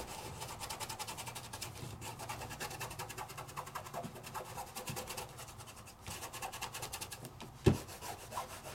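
A tool burnishes glitter down onto a die-cut paper piece, making soft, quiet, repeated rubbing strokes with a faint scratchy texture and one brief louder bump near the end.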